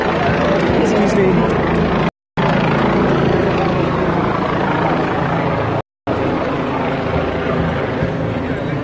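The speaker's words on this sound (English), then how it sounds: "You can hear the helicopters arrived." Helicopters flying overhead at a crowded outdoor rally in Charlottesville, a loud continuous broadband rotor roar filling the whole stretch, with two brief dropouts.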